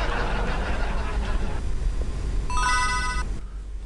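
A mobile phone rings from an incoming call, a short burst of bright electronic ringtone tones heard near the end over a background of low rumble and indistinct room noise.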